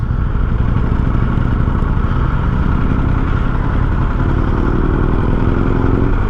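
A 2022 Harley-Davidson Sportster S motorcycle rides along with a loud, steady engine drone and a low rumble throughout, rising slightly in pitch toward the end, with no talking.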